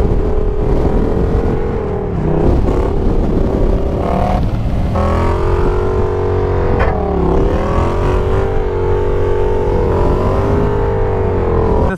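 A Yamaha MT-07 motorcycle rides along a road, its engine a steady, loud drone with rising and falling pitch as the rider shifts and accelerates, continuous throughout with strong wind rush.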